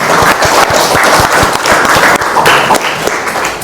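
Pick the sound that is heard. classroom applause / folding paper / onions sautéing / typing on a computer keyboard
classroom applause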